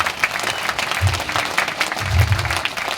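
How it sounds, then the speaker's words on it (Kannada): Loud sustained applause from a seated audience for a trainer at a business success-story event, a dense wash of clapping continuing for several seconds with no speech. "ಅವರಿಗೋಸ್ಕರ ಜೋರಾದ ಚಪ್ಪಾಳೆ."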